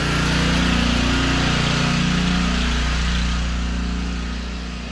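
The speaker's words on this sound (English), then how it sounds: "I am now on generator power in my house" A portable generator powering a house drones close by in a steady, loud hum, its buzzing engine note holding even before easing slightly at the end.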